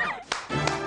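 A few sharp hand claps, about three quick close slaps spaced across a second, in a Hindi comedy serial scene.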